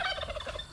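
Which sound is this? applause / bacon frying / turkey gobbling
turkey gobbling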